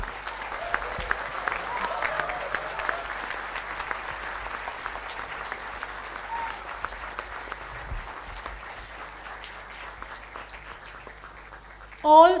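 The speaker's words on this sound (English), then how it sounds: "A big round of applause for the class of 2025." A convocation crowd at Thapar Institute of Engineering & Technology applauds the graduating class, long steady clapping from a large hall with faint voices beneath, ending in a brief louder burst.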